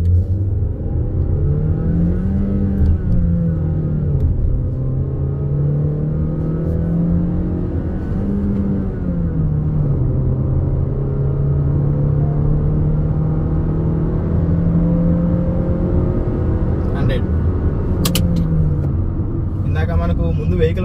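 Engine of a Honda Elevate SUV pulling hard from 0 to 100 km/h, a steady loud drone whose pitch climbs, dips at gear changes and climbs again, with speech over the top throughout.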